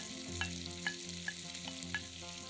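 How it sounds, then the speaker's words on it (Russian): Diced onion and pork belly fry in a soup pot while being stirred, a steady sizzle broken by several spoon scrapes against the pot, close and without talk. "Перемешиваем и еще немного обжариваем с грудинкой."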